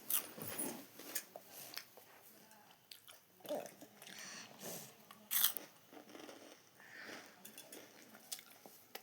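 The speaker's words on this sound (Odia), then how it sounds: "ଦେଖ କେମିତି ଖାଉଛି ବସିକି ଦେଖ" Child chewing and biting food indoors, with close, irregular crunches and wet mouth sounds, broken by brief rustles and faint background voices.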